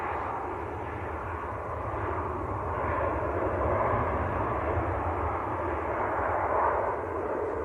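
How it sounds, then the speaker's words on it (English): A Ryanair airliner touches down at Manchester Airport with a steady broad engine roar that swells slightly mid-way, heard from a distance without voices. "buttered landing by Ryanair"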